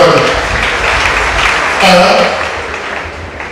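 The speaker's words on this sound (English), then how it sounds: "Clap for Dr. Jesus, everybody." An audience applauds with steady, dense clapping at a church service, a loud continuous wash of hands that swells slightly near the middle, with a voice audible over it.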